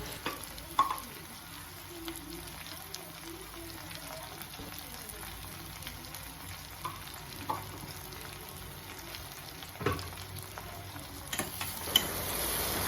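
Onions cook with a little salt in a pan for saagu, making a soft, steady sizzle with occasional scraping stirs and light clatter, fairly quiet.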